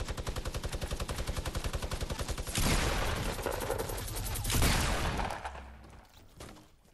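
Minigun fire in Fortnite, a rapid, steady mechanical rattle of evenly spaced shots for about two and a half seconds, then a dense, loud burst of gunfire and crashing that tails off, with no talk over it.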